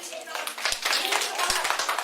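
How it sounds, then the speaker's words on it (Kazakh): Children at a kindergarten farewell party clap their hands together in a brisk, dense patter at moderate volume, with a voice heard alongside. "Кәне қол шапалақтап қояйық."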